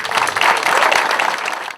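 A round of applause at a locker room project presentation, dense close clapping from a group that swells quickly and then fades out near the end.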